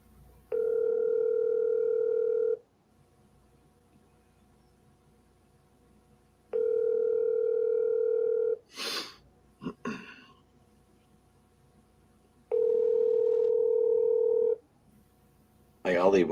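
A telephone ringback tone sounds while a call goes unanswered, three separate two-second buzzing rings spaced several seconds apart, clear and close, with short bursts of other noise between them.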